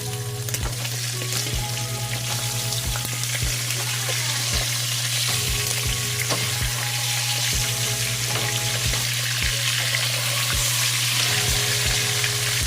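Pompano fish steak fries in oil with a dense, continuous sizzle and crackle. A steady low hum runs underneath and regular faint ticks recur throughout.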